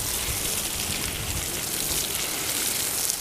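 Water sprays steadily onto parched plants during a very dry year, a continuous close hiss like heavy rain pattering on leaves and soil, with no talk.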